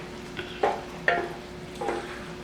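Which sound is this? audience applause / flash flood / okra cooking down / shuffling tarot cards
okra cooking down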